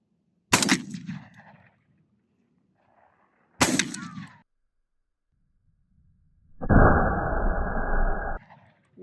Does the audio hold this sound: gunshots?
yes